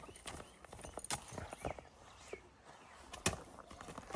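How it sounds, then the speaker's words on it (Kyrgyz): A horse walks with hooves clip-clopping in an uneven rhythm of soft, fairly close steps, with some faint background noise around them. "Мынакей туугандар, өтө сындуу жылкы экен."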